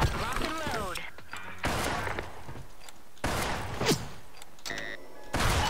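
A new weapon in a shooter video game fires in rapid, spammed bursts like a PSG rifle: loud, punchy volleys separated by short gaps, with someone talking over the shooting.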